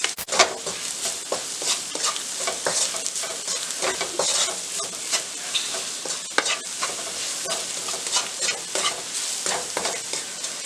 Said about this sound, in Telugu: ఒక స్పూన్ అల్లం వెల్లుల్లి పేస్ట్ వేసుకొని ఫ్రై చేసుకోవాలి